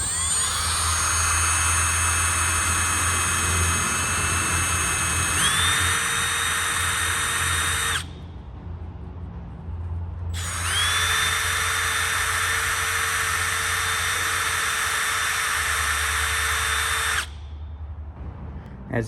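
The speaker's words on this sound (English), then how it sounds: "cleaning them using the wire brush on the drill itself" A power drill whirs loudly with a wire brush grinding against the metal terminals of a drone battery plug, running in two long bursts separated by a brief pause.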